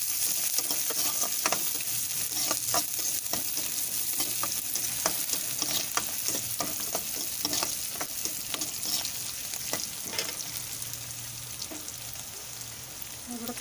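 Prawn curry ingredients with salt and tomato sizzle steadily in a hot pan while being stirred, with soft scraping strokes recurring through a constant frying hiss.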